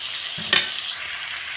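A meat, papaya and potato curry sizzles in a pot as it is stirred, with a steady loud frying hiss throughout and a brief scrape of the spoon partway through, close up and with no voices.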